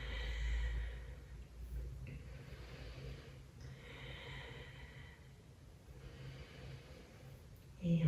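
Soft exhaled breaths come from someone during a small-ball Pilates exercise, repeating in a slow, regular rhythm, quiet and close, with a louder breath at the start and another at the very end.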